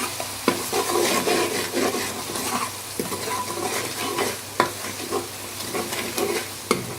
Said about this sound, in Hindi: इन सबको शामिल करके चम्मच को अच्छी तरह से चला लेंगे